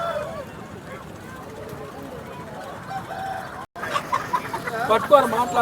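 Roosters and hens at a poultry market cluck and call intermittently under someone talking over a busy background murmur, with the bird sounds growing a little louder and more frequent toward the end.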